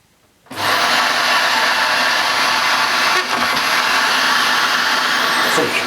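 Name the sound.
Dyson DC28c cylinder vacuum cleaner running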